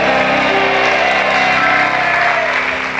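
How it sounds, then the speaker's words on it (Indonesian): Studio audience applause on the Family 100 game show, a loud, steady wash of clapping and crowd noise lasting throughout with a few faint shouts mixed in. "Persaingan ketat, tepuk tangan untuk mereka"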